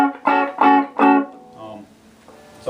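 A 1974 Gibson ES-335 guitar is struck with a pick, three bright chords ringing out in quick succession before fainter, softer notes trail off, played close and alone.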